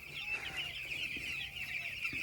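Chickens cluck steadily on a village poultry farm, a continuous chorus of hens close by with a few sharper calls standing out, and no one speaks.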